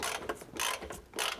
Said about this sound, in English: now I'm taking bolts out that are actually holding the tank up